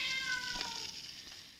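A house cat named Fauve gives a drawn-out, slightly strained meow, close and fairly loud, with no talking over it.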